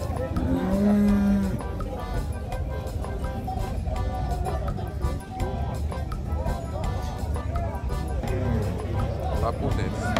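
A cow in a pen, one of some very large cattle, lets out a deep, drawn-out moo near the start, then low farmyard rumble continues with voices faintly in the background.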